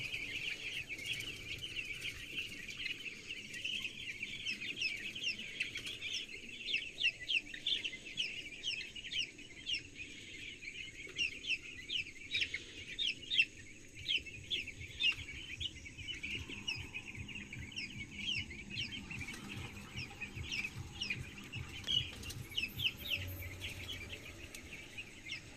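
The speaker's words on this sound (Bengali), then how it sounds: "মুরগিগুলো কিন্তু খাবার খাচ্ছে, আবার কিছু মুরগি পানি খাচ্ছে, আবার অনেকগুলো কিন্তু ঘুমিয়ে রয়েছে।" Chickens in a newly enlarged coop, a flock clucking softly and repeatedly at close range with scattered rhythmic calls and faint insect hum in the background.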